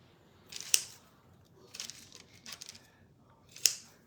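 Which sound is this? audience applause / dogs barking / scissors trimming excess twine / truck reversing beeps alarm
scissors trimming excess twine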